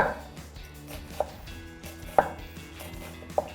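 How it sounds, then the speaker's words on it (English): A knife slicing a red onion into very thin slices on a cutting board, a few sharp evenly spaced chops standing out over a soft background, with no talk. "I'm gonna slice it down the middle, and then we'll just take this and peel up the first layer of the onion. We'll do really, really thin slices."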